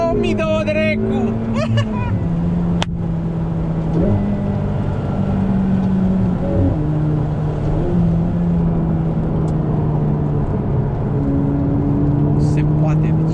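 Ferrari F8 Spider driving with its engine humming steadily, pitch stepping up and down through gear changes, loud and close under ongoing conversation inside the car.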